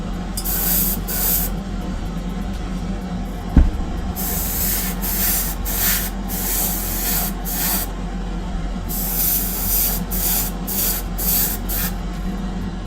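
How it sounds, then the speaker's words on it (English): Airbrush spraying base-coat paint onto a Greek style vase, a steady continuous hiss with short pauses and bursts, close and alone without talk. "I know this one needed some more spraying down here on the body."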